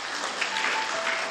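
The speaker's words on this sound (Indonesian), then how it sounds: "Sorak-sorai untuk Tuhan Yesus." A church congregation at a Sunday worship service breaks into dense, sustained applause, a steady wash of many hands clapping with some cheering, filling the whole moment.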